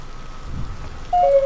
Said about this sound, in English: And my torch went out because it's raining.